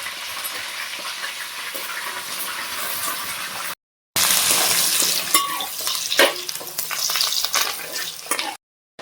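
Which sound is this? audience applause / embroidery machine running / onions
onions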